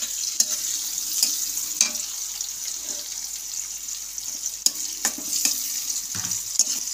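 Onion fries lightly in a pan for a bhola fish curry, giving a bright continuous sizzle punctuated by sharp, regular stirring scrapes and taps close by.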